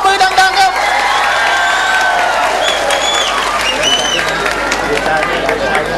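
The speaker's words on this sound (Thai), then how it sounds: "แชมป์กลับมาเป็นแชมป์โลกยิ่งใหญ่อีกครั้งหนึ่งครับเสียงปรบมือดังๆครับ" An audience at a boxing event applauds and cheers a returning world champion, dense clapping and crowd noise lasting throughout while an announcer's voice talks over it.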